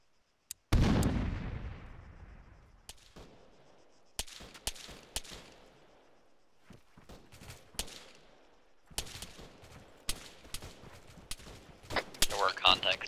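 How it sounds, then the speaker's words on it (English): Gunfire in Arma 3, a combat video game, with a loud booming blast followed by scattered single shots and short bursts at varying distances, dense crackling fire toward the end. "They were shooting up at me."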